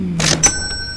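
A cash register in the video game Money Simulator gives a short, bright electronic chime with a quick mechanical clack, lasting about a second over faint background hum.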